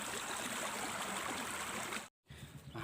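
Rainwater rushes along a paved asphalt road in a steady, close, broadband wash, cut by a brief dropout near the end before it resumes.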